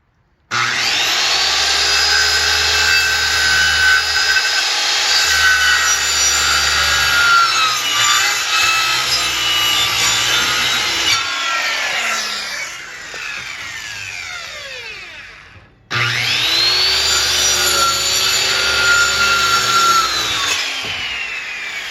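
A power saw cuts out a homemade silhouette target, a loud steady whine and rasp running long, slowing and fading briefly with a pause, then roaring back for a second strong pass.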